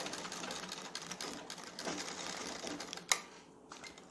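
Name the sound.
sewing machine stitching kurta placket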